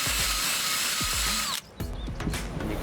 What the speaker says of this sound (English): So you simply put that on the end of a drill.